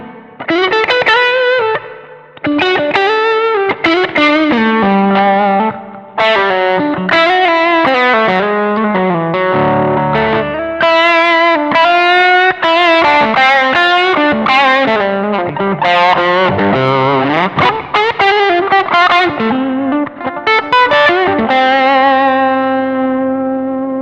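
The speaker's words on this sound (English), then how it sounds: "overdrive tube screamer" An electric guitar on the neck pickup, played through a Zoom G3Xn tube screamer overdrive, runs through a loud, continuous melodic line of sustained, distorted notes with a little reverb and no talking.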